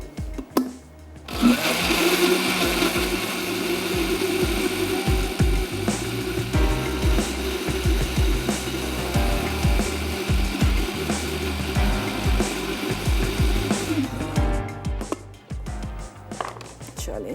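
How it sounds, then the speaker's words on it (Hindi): A kitchen blender whirs loud and steady for about twelve seconds as it blends milk with ice, starting and stopping abruptly, with no talking. "मैं इसमें शामिल कर रही हूँ दूध। इसको करते हैं अच्छा सा ब्लेंड।"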